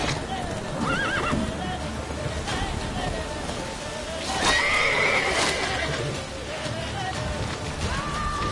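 Geralt's horse Roach neighs in The Witcher 3, a clear whinny over hoof clip-clops and outdoor ambience, with a voice speaking nearby.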